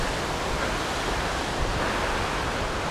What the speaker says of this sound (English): you can see that there's a little waterfall in front of it as well